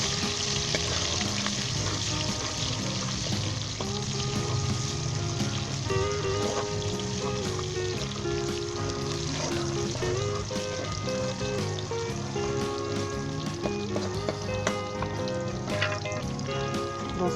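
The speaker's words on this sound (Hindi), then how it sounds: "अदरक बारीक कटी ये डाल देंगे, और 1 मिनट के लिए अच्छा फ्राई करेंगे हम" Finely chopped ginger frying in oil for a Peshawari mutton karahi: a loud, dense, continuous sizzle and crackle close up, with bursts of stirring and scraping and no voices.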